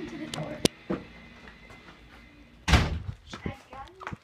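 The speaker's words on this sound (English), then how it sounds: "I just ran into the door." A person bumps into a door indoors, giving one loud, close thud, followed by a few lighter knocks and faint rustling.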